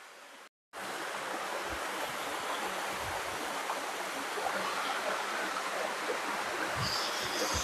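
The Melati waterfall in Wonogiri, one of two falls there, one of them tiered, pours with a steady, full rushing roar. A brief silent gap comes at the start, and then the water noise continues without pause.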